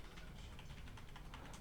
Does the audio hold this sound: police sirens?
no